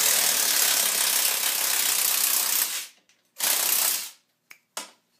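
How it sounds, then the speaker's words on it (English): A ratchet or impact tool spins bolts out of a 2013 KTM 250sx motocross bike during engine removal: a long continuous buzzing run, then a shorter burst and a couple of quick clicks, close and loud. "So now we're going to remove the bolts."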